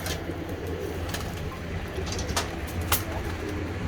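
Pigeons coo steadily at close range over a dense, noisy loft background, with a few sharp clicks and flutters cutting through.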